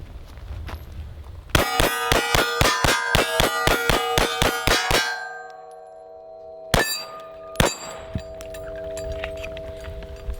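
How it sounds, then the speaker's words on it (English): A P80 pistol fires rapidly at steel targets at close range, a quick string of about a dozen sharp metallic clangs with ringing tails, then a pause and two more isolated hits. "now we'll take the P80 and we'll shoot it up close"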